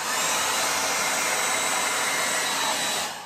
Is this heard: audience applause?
no